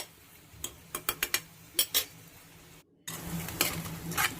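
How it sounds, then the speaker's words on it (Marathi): Chopped onion for green pea gravy sizzles softly in a pan while a spoon scrapes and clinks against the metal in a series of sharp taps, then a steadier frying hiss follows after a brief gap. "कांदा आपल्याला गुलाबी रंगावर परतून घ्यायचा आहे"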